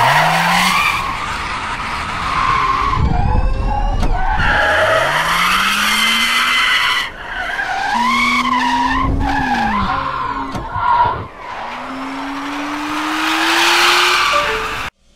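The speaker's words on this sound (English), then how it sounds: "This is what enables the Hyptec SSR to maintain a stable drift at speeds of" A Hyptec SSR electric car drifting at high speed, around 213 km/h, for a fastest-electric-drift record: loud, sustained tire screeching with rising electric motor whines that swell and cut out in several long passes.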